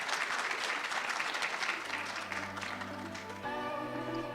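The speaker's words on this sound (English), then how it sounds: "Can we please give a round of applause?" An audience at the 8th National ICT Summit 2024 breaks into full, even applause that gradually fades as a steady hum and then sustained music tones take over toward the end.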